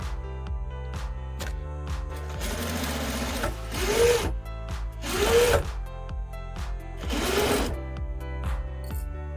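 A sewing machine stitches the fabric edges of a tote bag, a fast rhythmic clatter of the needle that swells into three louder bursts of quicker stitching before easing back, close and alone.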